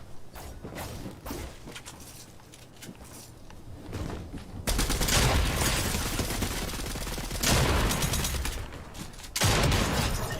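Gunfire from the new shotguns in the video game Fortnite Chapter 3, with dense, continuous blasts and mechanical clatter that grow louder partway through and carry on without talk.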